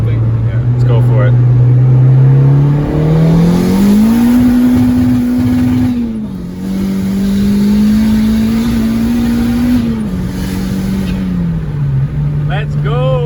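A Honda K24 VTEC engine in a 7th-gen car pulls hard with a loud, steady rising and falling drone that climbs through the revs, holds, then eases back, with people talking over it.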